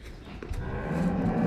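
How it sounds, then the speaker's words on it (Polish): A cow moos in a meadow, a deep drawn-out lowing that swells and holds, close and clear over faint outdoor background. "Śliczna krowa, śliczna. Krowy na łące."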